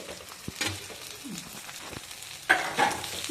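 Okra frying in oil with turmeric for a gram-flour palya, with a soft, quiet sizzle and scattered scraping stirs, followed by a louder burst of spattering near the end.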